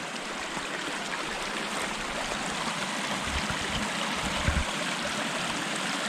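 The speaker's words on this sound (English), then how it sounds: "Got some running water up here. I hear it." Babbling brook in a creek at McGee Creek State Park, continuous rushing and trickling water heard close up, steady and fairly loud with no voices.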